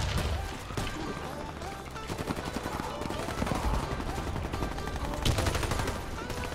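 Rapid automatic gunfire from a VEPR rifle in a Halloween 2017 video game match, dense bursts of shots crackling on and off close up, with voices talking under the firing.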